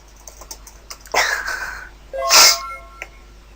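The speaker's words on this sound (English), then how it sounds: "Sorry about the constant sniffing, it's summer, it's hot, I have hay fever" A person with summer hay fever gives a sharp nasal sniff followed by a louder, fuller sniff or snort, close up amid faint keyboard tapping in an otherwise quiet room.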